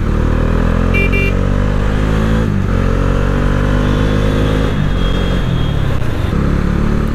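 Busy road traffic in Noida, India, with motorcycles and cars passing close by in a loud, continuous engine drone, with revving and a faint horn.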